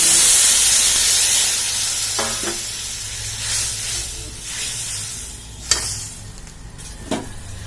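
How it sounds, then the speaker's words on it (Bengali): Water poured into hot oil for a pabda fish curry bursts into a loud, hissing rush of steam and sizzle that slowly settles into steady frying, with a few stirring scrapes later. "এখন আমি অল্প সামান্য জল দিয়ে দেব"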